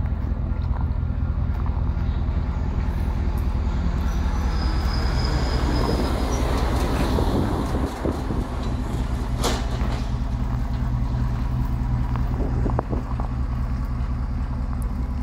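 A 2017 RAM 1500 pickup with a 5.7-litre engine runs steadily, giving a loud, continuous low rumble mixed with broad wind-like noise for the whole stretch.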